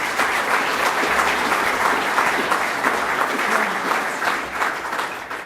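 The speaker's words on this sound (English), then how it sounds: "So just give them a round of applause." A conference audience at a Melbourne sustainability event applauds steadily and loudly throughout, dense clapping filling the whole stretch with no voice on top.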